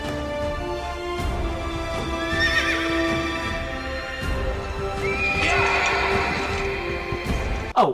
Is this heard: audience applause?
no